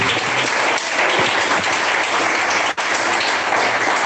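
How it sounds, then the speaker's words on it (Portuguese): A congregation applauds during a Portuguese-language church sermon: dense, steady clapping from a crowd fills the whole stretch, with a brief dip near the end. "Palmas que glorifica a Deus"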